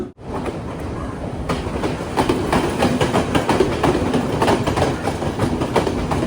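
The Podi Menike Express from Colombo Fort to Badulla rolls into a Sri Lankan station platform, its wheels clattering in a continuous rhythmic clickety-clack that grows louder and nearer, with no voices.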